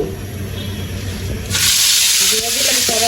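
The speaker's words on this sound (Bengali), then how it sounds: "এখন আমি মাছটা ভাজবো" Oil bursts into a loud, steady sizzle and hiss as fish, rubbed with turmeric and salt, drops into the pan. A voice speaks briefly over the frying.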